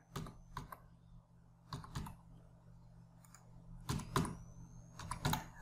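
An Aadhaar number being typed on a computer keyboard: quiet, close key clicks in small irregular clusters with pauses between them, over a low steady hum, no speech.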